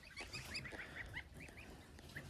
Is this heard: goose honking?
yes